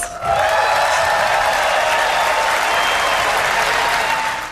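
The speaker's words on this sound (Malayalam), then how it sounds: "വൈസ് പ്രസിഡന്റിന്റെ ഭാര്യ സംസാരിക്കുമ്പോൾ ട്രംപ് ഇരുന്ന് കൈയടിക്കുന്നത്" Sustained applause from a large audience while Donald Trump, seated, joins in clapping as the vice president's wife speaks; dense, loud and continuous throughout, with no talk over it.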